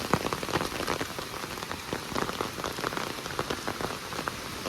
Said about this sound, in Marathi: आता पाऊस पडतोय थोडा.